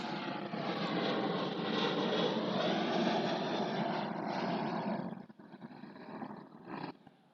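An airplane's engine roars steadily and loudly for several seconds, a broad, constant drone that drops off abruptly near the end, leaving only some fainter rumbling and bumps, with no talk.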